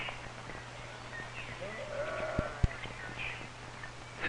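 Sheep bleating on a farm, a few faint, wavering calls at a moderate distance over a steady low hum, with no other voices.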